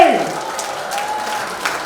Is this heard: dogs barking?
no